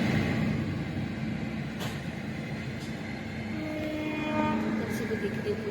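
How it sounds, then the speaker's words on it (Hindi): A passenger train slows to a halt, with a steady low rumble and faint squealing brake tones near the end, under nearby voices. "अभी रुकेगी ट्रेन, तो रुक गई है अभी ट्रेन।"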